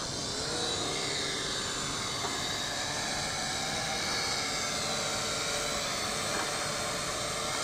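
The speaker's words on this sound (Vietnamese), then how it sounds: "con flycam này nó bay lên cách mặt đất khoảng chừng 1 mét, sau đó là nó dừng như thế" An SJRC S70W GPS camera drone lifts off and hovers about a metre above the ground, its propellers giving a steady, whining buzz with constant tonal hum throughout, no talking.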